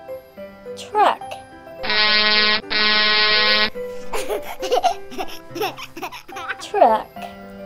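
A truck air horn sounds two long, loud blasts back to back, with a baby laughing and giggling before and after them.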